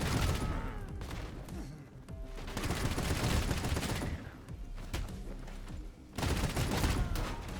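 Dense bursts of rapid gunfire rattle through combat in the action roguelike KIBORG, sustained fusillades broken by brief lulls, loud and continuous.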